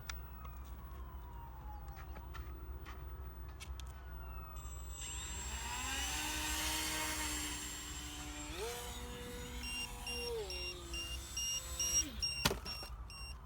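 The electric motor of an Easy Edge 2 RC plane whines at launch, its pitch climbing and stepping up and down for several seconds before a sharp clatter near the end.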